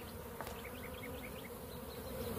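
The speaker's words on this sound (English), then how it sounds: "Usually you get a few bees" Honeybees buzz steadily close by around a hive, a dense continuous hum with individual bees droning in and out, and no voices.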